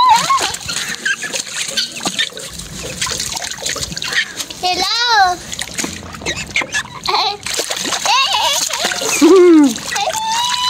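A pet bird bathing in a water dish, with continuous splashing and dribbling close by and chirps rising over it, under almost constant talking from a person nearby.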